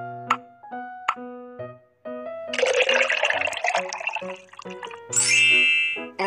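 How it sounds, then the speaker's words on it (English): Vinegar pours into a glass of soda in a children's school lab experiment, a sustained splashing, fizzing gush lasting a couple of seconds, then a second brief burst, over light ringing chimes. "Now pour some vinegar into it."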